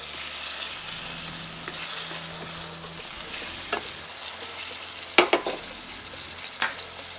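Scotch bonnet pepper, onion and scallion sizzle softly in a pan, a steady frying hiss broken by a few sharp clicks of utensils stirring.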